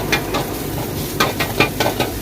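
Vegetables and egg rice being stirred and tossed in oil on a slow flame at a village street food stall, with a steady frying sizzle and repeated scraping strokes of the spatula, close and fairly loud, no talk.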